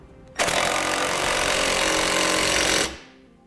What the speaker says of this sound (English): And again for our exhaust hangers, I'm using a 13mm socket.